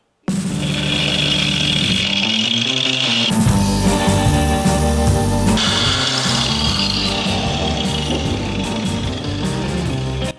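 A Crown CT-12325-25 wall chaser runs steadily at full speed, its loud, continuous motor whine and gear drone holding an even level throughout, with no talking.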